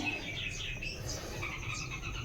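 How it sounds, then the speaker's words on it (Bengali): Bulbul birds chirp near a nest with two chicks inside a home shrine area, a run of short, high tweets repeating over a soft noisy background. "বুলবুল পাখি বাচ্চা দিয়েছে। বাসা বেঁধেছে কি সুন্দর"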